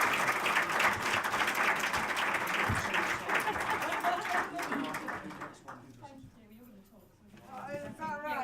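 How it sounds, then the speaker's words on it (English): Applause from an awards ceremony audience at the 2018 WEA Awards, steady and full for several seconds before fading out, with voices speaking as it dies away. "Big round of applause."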